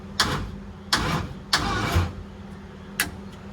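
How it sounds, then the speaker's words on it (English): A procharged Coyote engine in a Mercury Comet cranks over in several separate starter bursts, each a short whirring turn with gaps between, close and clear with no engine catching. "All right, it turns over."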